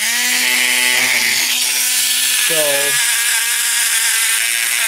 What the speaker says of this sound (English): I'm just going to use a Dremel drill to kind of go in inside this to smooth it out a bit.